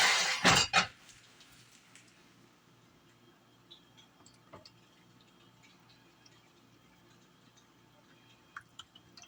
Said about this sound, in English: So let's put a plate in the sink so that I can set that up straight.